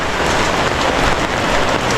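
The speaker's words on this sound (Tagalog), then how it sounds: "grabe ulan" Heavy rain pours down at a corner house in a constant dense hiss, loud and steady, with no breaks or voices.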